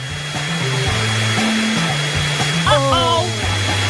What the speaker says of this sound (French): Mon sèche-cheveux super puissant va tout réparer.